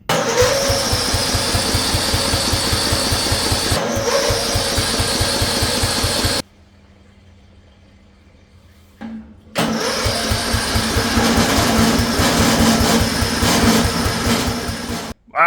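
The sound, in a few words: lifted lawn mower's Ford engine cranking but not starting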